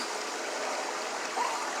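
Water flowing in a shallow stream on a nature walk, a soft steady trickle and wash heard up close, with a brief brighter gurgle near the end and no voices.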